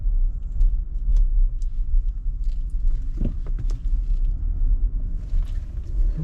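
2019 Infiniti QX80 SUV driving on a road, a low steady rumble of tyres and cabin noise throughout with a few faint clicks and thumps, no talking.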